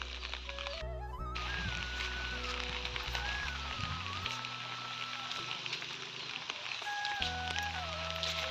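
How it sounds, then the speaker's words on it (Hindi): Heavy rain pours down in the mountains in a dense, continuous hiss, with tonal music and melodic beeps playing over it. "बहुत जोर से बारिश आ गई है"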